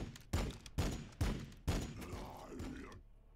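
Units firing in Warhammer 40000 Battlesector, four heavy, evenly spaced shots in a row, each with a thumping impact and a short decay, ending in a longer fading rumble.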